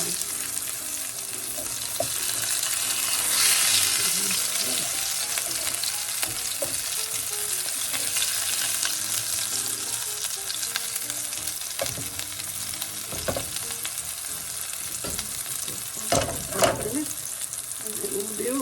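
A grouper fillet pan frying, giving a continuous soft sizzle with faint crackles and a few louder pops and scrapes near the end, steady and close, no speech.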